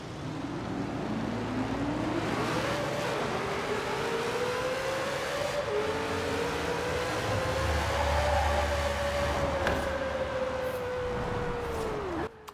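A 9.5-litre, 1,800-horsepower Ford Double Down drag car engine in Forza Horizon 4 revs up in a rising whine, then holds a long, loud, droning pitch for several seconds before cutting off abruptly near the end.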